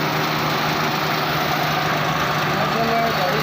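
A Suzuki Mehran car engine idling after a service with oil and fuel filter changes, a steady, even hum with a fine rapid vibration, close and constant.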